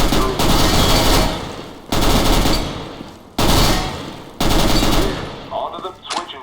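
Four loud machine gun bursts from Counter-Strike: Global Offensive, each about a second long and separated by short gaps, ending in a few lighter clicks.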